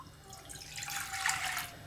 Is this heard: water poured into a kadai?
yes